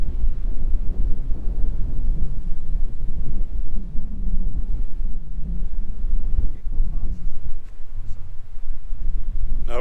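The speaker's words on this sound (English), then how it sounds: "It's pretty windy." Strong wind buffets the microphone at a roadside lookout on an outback road, a steady low rumbling roar with gusty surges throughout and no clear speech.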